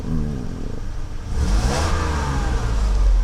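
The engine of a Mercedes W126 300SEL, just repaired after a fuel distributor fault, idles and then revs up strongly partway through, a close, steady mechanical roar with no voices.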